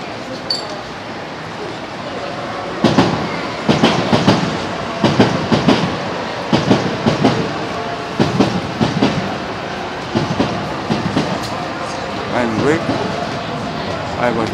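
A Marunouchi Line subway train passes at Korakuen Station in Tokyo, its wheels clattering over rail joints in a steady rhythm of clicks and rumbles while a voice speaks over it.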